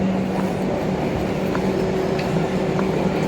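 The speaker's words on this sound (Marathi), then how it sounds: "ट्रेन थांबली." A train rumbles steadily as it slows and stops at a station platform, with a low continuous rolling drone and faint squeaks, heard up close from on board.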